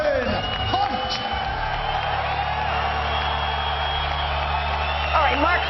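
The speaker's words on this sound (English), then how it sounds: "Mark Hunt getting a nice round of applause from the locals there" A crowd at a UFC Fight Night weigh-in cheers and whoops for heavyweight fighter Mark Hunt in a large hall. The applause is broad and sustained, with shouts rising near the end.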